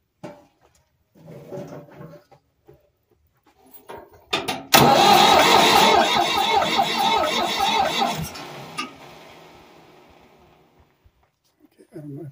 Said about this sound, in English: Then I can crank the engine to make sure I got some bubble out of here.